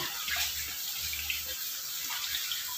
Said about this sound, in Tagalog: habang umaga ngayon, naghuhugas ako ng plato